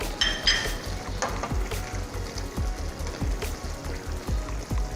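Chilies, lemongrass and kaffir lime leaves with shallots sizzle loudly in a pan, a steady crackling fry with rhythmic stirring scrapes close up and no talking.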